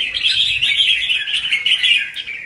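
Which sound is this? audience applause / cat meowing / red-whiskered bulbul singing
red-whiskered bulbul singing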